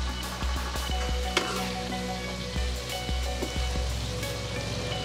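Sardines (mathi) frying in hot oil at Daivam Hotel in Alappuzha, a steady close sizzle running throughout with scattered pops and spatters, no voices.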